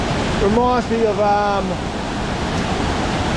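A river rushes steadily in the Tasmanian bush near Stitt Falls, a constant broad wash of flowing water close by, with people talking over it in the first half.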